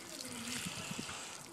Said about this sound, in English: We're going to go ahead and water it in.